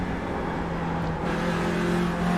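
A TCR touring car's engine drones steadily on a night lap of the Nordschleife in a racing game, a continuous loud hum holding at high revs with a slight rise in pitch partway through.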